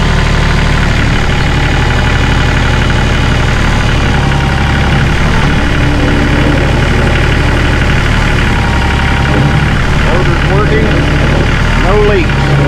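Loader engine idling on a snowy farm, a loud constant diesel rumble with a knocking throb that runs unbroken throughout, while people talk over it.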